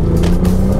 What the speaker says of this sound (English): you get a nice throaty engine noise